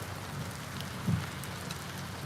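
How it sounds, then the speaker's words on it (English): Steady rain falls outdoors as a dense, even hiss of drops on surfaces, with one brief thud in the middle and no voices. "It is really raining out there."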